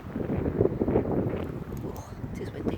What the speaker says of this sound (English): If you can hear me, it's probably windy.